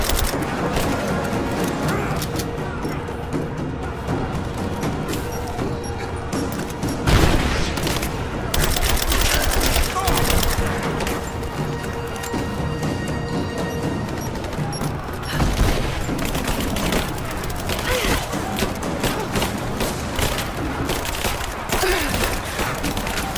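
Gunfire in Rise of the Tomb Raider on Xbox One: dense, rapid fusillades of shots and heavy booms that go on almost without a break, loud and close, with short pauses between intense bursts.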